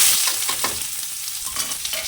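Chopped onion fries in hot oil in a pan, a steady loud sizzle broken by soft scraping stirs, with no talking.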